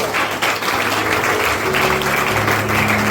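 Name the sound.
congregation applauding in church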